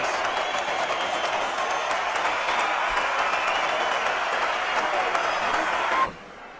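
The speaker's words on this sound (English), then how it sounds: "The crowd's on its feet." A boxing crowd at the Pacquiao vs Marquez 3 fight in Las Vegas, 2011, roars and applauds in a dense, sustained wall of cheering and clapping that cuts off sharply near the end, with a commentator's voice faintly underneath.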